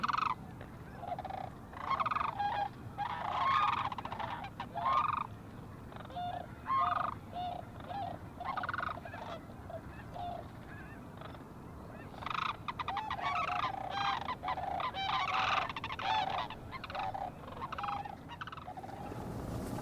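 Wild birds circling down from the sky over a large Central California swamp, giving repeated honking, gobbling calls at moderate distance in a steady chorus without talk.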